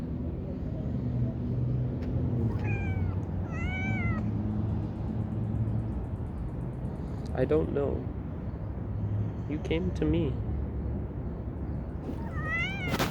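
A pet cat meows several times at close range, thin rising and falling calls spread across the stretch, mixed with a person speaking softly over a steady low background hum.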